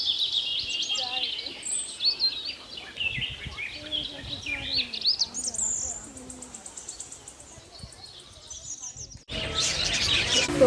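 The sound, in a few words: birds chirping at a bird park entrance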